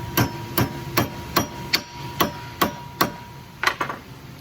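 Sharp metal-on-metal hammer blows bend over the jaw tips of a #5 steel trap, about ten evenly spaced strikes in a steady rhythm with a quick double hit near the end, close and loud with no talking.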